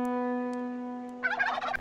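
A turkey from the Familiar Fauna mod in RLCraft Minecraft lets out a short, rattling gobble after a steady held tone, brief and fairly close.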